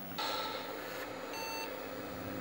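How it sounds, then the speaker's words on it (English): A Tandy 4000 computer emits a short electronic beep to call for another disk, one brief tone heard faintly over steady fan and room hum. "she just beeped for another disc."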